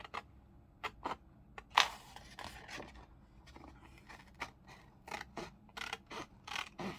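Scissors cut paper for a lapbook craft project, with a series of quiet, close snips and rustles in an irregular rhythm, some sharper cuts among softer scraping sounds.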